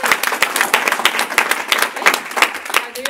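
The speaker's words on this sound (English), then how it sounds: "Let's give it a round of applause." Audience giving a round of applause at a motivational talk, lively clapping with distinct individual claps standing out over a crowd, fairly close and energetic.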